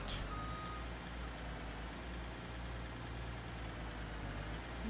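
Farming Simulator 19 vehicle backing up: a steady low engine rumble with faint, regular reversing beeps running underneath, no one talking.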